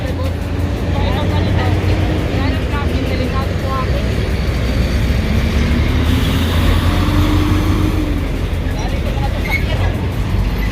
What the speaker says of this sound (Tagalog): So maraming truck dumadaan dito.